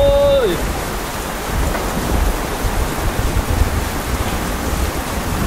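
Steady, dense hiss of heavy rain pouring continuously over a flooding slum area, with a brief high tone fading out at the very start.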